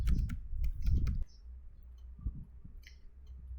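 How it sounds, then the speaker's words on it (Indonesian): A short burst of rapid keystrokes on a computer keyboard, close and crisp clicking for about a second, then near silence with a couple of faint isolated taps. "Kemudian sini saya akan mengetik net user."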